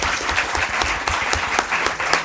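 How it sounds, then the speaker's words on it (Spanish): Audience at a Spanish choral event breaking into steady, dense applause, the clapping loud and continuous for the whole stretch. "por favor, dar un aplauso a Héctor,"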